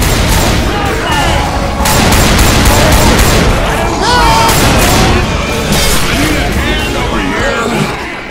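Rapid bursts of Left 4 Dead 2 gunfire crackle loudly and densely in overlapping volleys, with game voices and chatter mixed in underneath.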